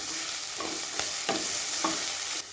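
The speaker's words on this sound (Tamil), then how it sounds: "இப்போ வெங்காயத்தை நல்லா வதக்கி விட்டுக்கலாம்." Sliced onions sautéing in a pan for a mushroom pulao, a steady soft sizzle broken by several brief stirring scrapes, close and fairly quiet with no talking.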